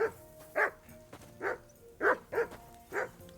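In the medieval game Kingdom Come: Deliverance II, a dog barks six times in a steady, insistent run. The barks are clear and close, sometimes paired in quick doubles, with no talking.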